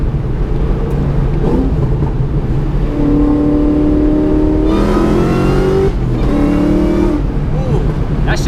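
A car accelerates hard through the gears, engine pitch climbing in steady sweeps with brief drops at each shift, loud and close, likely heard from inside the cabin.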